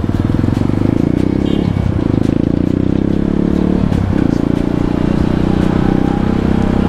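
A Kawasaki KLX supermoto motorcycle being ridden gives a steady, loud engine drone with a rumbling pulse, heard close up together with road and wind noise.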